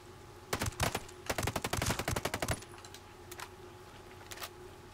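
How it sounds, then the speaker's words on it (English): Suppressed gunfire in the tactical shooter Ghost Recon Breakpoint: several rapid bursts of muffled shots close together, followed by a few scattered single shots and quieter clicks. "Keep that suppressed fire."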